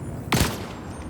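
A single sharp gunshot in the Detroit: Become Human video game rings out once, loud and close, with a short decaying tail over a quiet background.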